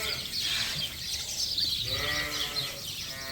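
Sheep and lambs on a farm in winter bleat softly among bedding, a few faint overlapping calls against a constant background hum, with no talking.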